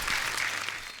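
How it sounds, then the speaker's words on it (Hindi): A burst of studio audience applause on a comedy show, dense clapping that fills the moment and begins to taper off near the end. "जोरदार तालियां हो जाए।"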